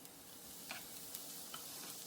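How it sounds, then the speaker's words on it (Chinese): Minced garlic stir-fries in a little hot oil in a heated pan, giving a quiet, steady sizzle with a few faint clicks of a utensil against the pan. "先炒蒜末"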